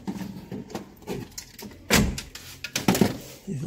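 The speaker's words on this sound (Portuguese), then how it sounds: "E vamos encostar aqui agora a porta." The front door of a Volkswagen Polo, fitted with power windows and electric locking, is pushed to and shut, giving a few soft thuds and clunks followed by a louder latching bang amid light handling noises.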